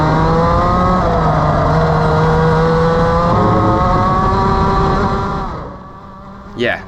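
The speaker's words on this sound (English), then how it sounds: "listen to how much the tires are squealing with the LN Kart" A kart with an LN chassis runs at speed with its tires squealing through steering, heard as a loud, continuous engine drone with sliding tire squeal layered over it that fades off near the end.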